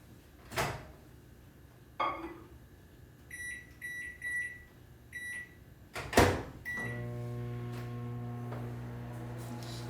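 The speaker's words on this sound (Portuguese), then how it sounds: "vou colocar menos tempo no micro-ondas, vou colocar de 20 em 20 segundos" Microwave oven humming steadily after a few door clunks and beeps, with a low continuous drone filling the second half of the clip.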